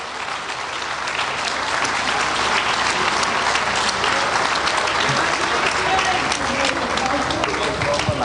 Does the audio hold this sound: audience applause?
yes